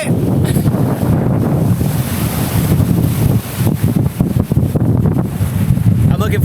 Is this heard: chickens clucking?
no